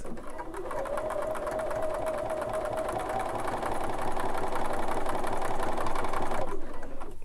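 A Bernina sewing machine with a #3 buttonhole foot stitches a corded buttonhole, a fast steady mechanical whirring and ticking that runs close and continuous before stopping abruptly.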